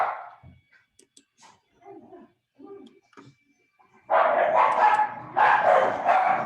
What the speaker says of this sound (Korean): 강아지가 짖으니까 동영상도 안 나와